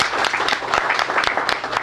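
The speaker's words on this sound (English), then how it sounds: "A round of applause again." A crowd applauds at a government handover ceremony for a new youth affairs cabinet secretary, steady clapping with several sharp louder claps cutting through, brief and fairly close.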